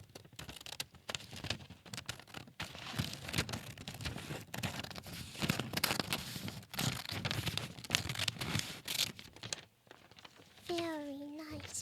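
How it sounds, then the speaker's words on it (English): Wrapping paper being cut and crinkled for gift wrapping, with steady rustling, crackling and snipping textures running throughout, ending in a short burst of whistle-like squeaks. "Let me just cut off a little snippet here."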